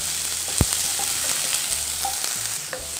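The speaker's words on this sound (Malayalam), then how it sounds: "ഇനി ചെറുതായിട്ടൊന്ന് വഴറ്റി കൊടുക്കണം" Chopped onions and green chillies sautéing with garlic in a hot pan, a steady soft sizzle with a few light stirring scrapes and taps close by.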